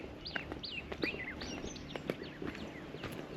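Several birds call and chirp in quick, rising whistles over a soft outdoor background, with a few louder nearby calls standing out.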